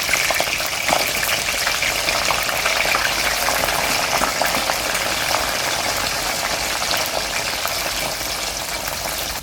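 Okra frying in hot oil with whole garlic cloves, a loud steady sizzle and crackle that holds evenly throughout with no talk.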